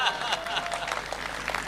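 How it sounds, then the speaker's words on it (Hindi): Audience applause at a Hindi comedy show, a brief dense patter of many hands clapping at moderate volume, steady with no pauses, heard in a live hall. "तालियां कम है, जरा पीछे वालों उठा दो तालियां।"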